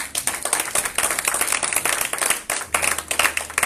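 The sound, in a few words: congregation clapping at church service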